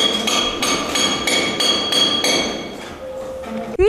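Workers hammer while repairing a student dormitory floor after a fire, a steady series of sharp, ringing metallic strikes about twice a second, loud and near, before the blows stop and a brief tone sweeps upward.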